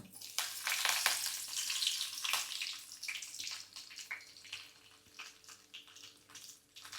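Mustard seeds, dal and curry leaves sizzle in hot sesame oil for onion chutney, a loud crackling fry with sharp seed pops that slowly settles into a quieter, steady sizzle.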